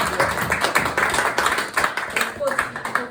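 Audience at a Toastmasters meeting applauding, a close, steady run of clapping hands lasting a few seconds.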